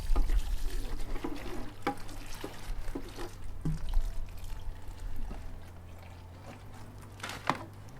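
Water poured from a watering can onto potted bean plants climbing poles in garden boxes, a soft steady pour with light dribbles and splashes, fairly close, with low background rumble.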